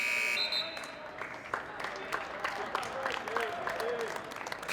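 A shot clock buzzer at a high school boys basketball game, heard as a loud steady electronic tone at the start, followed by crowd noise and an excited announcer talking over the gym ambience.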